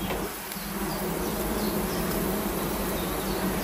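Honeybees buzz around an open beehive while a beekeeper works among hives during nectar flow near linden trees, a steady, dense, fairly close hum that continues without pause.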